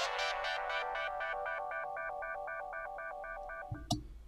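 A VirtualCZ software synth using a tweaked Octave Pulse preset plays a chord as rapid pulsing, repeated tonal bursts that sustain evenly for about four seconds, ending with a brief low thump.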